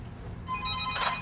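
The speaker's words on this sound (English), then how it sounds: "Answer that phone, dude. Answer it." A telephone rings with a bright electronic tone, its harmonic chirps swelling louder toward the end over a steady low background hum; no one speaks during the ring.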